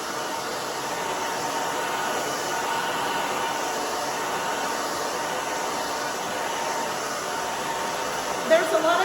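A hair dryer blows steadily and close at hand while thin, short, partly damp hair is dried with a brush during a haircut, a continuous airy roar throughout with a small bump near the end.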